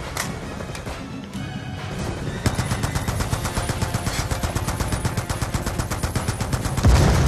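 Rapid machine-gun fire rattles in Call of Duty: Black Ops 2, a sustained fast burst of closely spaced shots that intensifies partway through, loud and up close alongside other battle noise.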